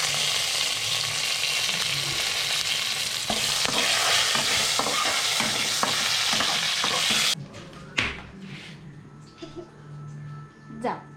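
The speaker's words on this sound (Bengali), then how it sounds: "আমি প্রত্যেকটা জিনিস ফোড়নে দিয়ে দিলাম।" Whole spices dropped into smoking hot oil for a tempering, a loud dense sizzle and crackle that cuts off abruptly partway through, followed by quieter stirring and clinks.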